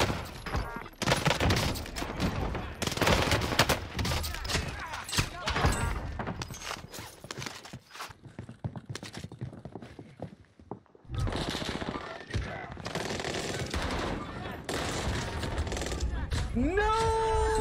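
Rapid automatic gunfire from a hip-fired weapon in Warzone crackles in dense bursts, pauses and starts again, with some voice chatter mixed in.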